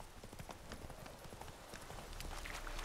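A horse's hooves clip-clop in the video game The Witcher 3, a steady, even rhythm of soft knocks over a low background rumble, moderately faint throughout.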